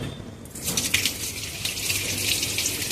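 Water streams steadily into the tub of a semi-automatic washing machine, a continuous hissing gush that rises from a quieter start and stays loud and close with no talking.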